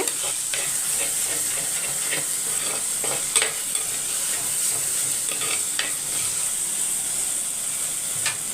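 Tomatoes sauté in a pan for mutton thokku, giving a steady close sizzle and hiss with occasional light stirring scrapes, unbroken and without talk.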